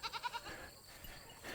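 Goats roam loose outside their woods pasture, giving a short run of rapid wavering bleats at first, then distant faint rustling and ambient noise; quiet and alone without talk.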